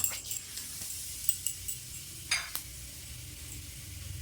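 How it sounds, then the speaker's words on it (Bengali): Black cumin seeds tempered in hot oil left from frying pabda fish, giving a soft crackling sizzle with a few sharp pops and spoon scrapes, moderately close and without speech. "মাছ ভাজা তেলে কালো জিরে ফোড়ন দিলাম।"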